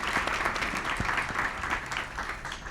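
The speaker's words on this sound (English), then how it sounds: "Can we have another round of applause for our panelists and our hosts?" Audience applause for panelists and hosts at a Columbia School of Journalism forum, a steady wash of many hands clapping at moderate distance, with a few sharper individual claps standing out.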